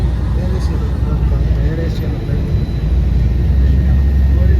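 A loud, steady low roar of SpiceJet jet engines at close range at an airport, with people talking over it.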